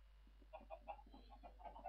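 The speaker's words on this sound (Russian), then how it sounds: "Тут у меня уйма куриц." Minecraft chickens clucking in short, soft bursts, several birds calling in an uneven rhythm over a steady low hum, with no talk.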